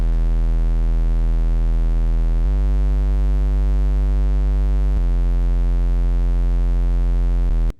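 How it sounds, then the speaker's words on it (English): A heavily distorted sub-bass synth from a dark pop beat plays alone, holding sustained tones that switch pitch about every two and a half seconds and stay steady and loud throughout. "And then the same like distorted bass as the like the sub one."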